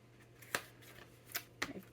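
Pages of a small 4x4 scrapbook mini album made from 12 by 12 patterned paper are flipped open. There are three quiet, crisp paper rustles and flaps spread over two seconds against a faint steady hum.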